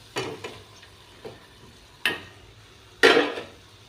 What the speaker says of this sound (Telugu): ఇప్పుడు ఉడికించిన మునక్కాయ చికెన్ ఇందులో కలుపుతున్నాం.